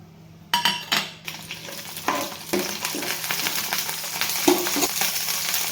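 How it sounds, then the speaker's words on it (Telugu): Green chillies hitting hot oil in a kadai for chutney, a bright sizzle that flares up on contact and then settles into steady frying, broken by a few stirring clatters of a spoon against the pan. "ముందు బాండీ పెట్టుకొని కొంచెం ఆయిల్ పోసుకోవాలి. దీంట్లోకి అయితే ముందు పచ్చిమిర్చి వేసుకోవాలి."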